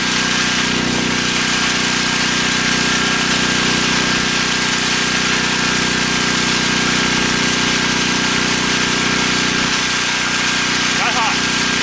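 A generator engine runs loudly and steadily close by, a constant droning hum powering an off-grid electrical setup, with no talking.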